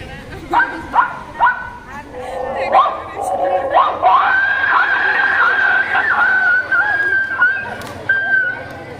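A human voice imitates two dogs fighting: loud, close bursts of barks, yips and snarls, with a rising, drawn-out howling whine in the middle and more sharp yelps at the end.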